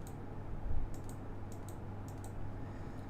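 A coupon code typed on a computer keyboard, a few faint clusters of soft key clicks in short bursts over a low steady hum, with no talking.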